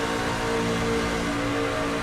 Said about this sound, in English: you can hear Randall lifting off that throttle to keep himself from running into White